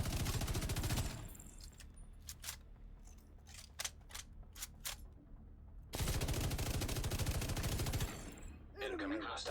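Rapid automatic gunfire bursts from a Division 2 firefight, dense and loud at the start and again midway, with scattered single shots and brief gaps between, over game ambience.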